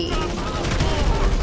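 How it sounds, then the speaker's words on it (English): A minigun fires in the video game GTA Online as a short, dense, continuous burst of rapid rounds, loud and close with background game noise. "He got a minigun!"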